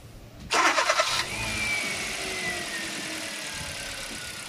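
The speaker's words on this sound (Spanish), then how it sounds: "Entonces vamos a encender el vehículo." A car engine cranks briefly with a rapid pulsing whir, then catches and settles into a steady idle hum with a faint high whine, heard close and alone.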